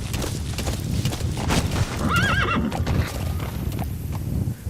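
Horse in Metal Gear Solid V whinnies with a wavering neigh midway through, alongside steady clip-clop of hooves and ambient game sound throughout; no one speaks.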